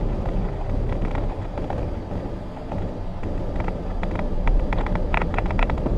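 A manual car creeps slowly out of a parking space with the clutch held at the biting point, giving a low, steady engine rumble and road noise with a few light ticks and knocks, close by and without talk.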